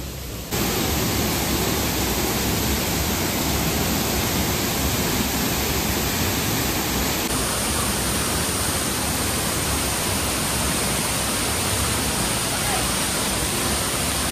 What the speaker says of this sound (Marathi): शेवटी मित्रांनो पोहोचलो आपण वॉटरफॉलला